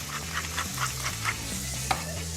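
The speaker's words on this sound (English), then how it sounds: "Now, start frying off that pancetta." Steady sizzling of cured pancetta frying in a pan, with light crackles and a faint scrape of stirring near the end.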